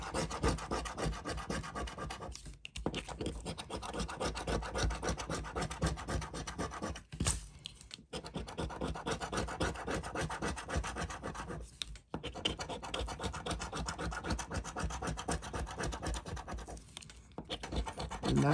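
Coating being scratched off a $30 Texas lottery scratch ticket, a close, continuous raspy scraping in rapid strokes with a few brief pauses, quiet and with no talk.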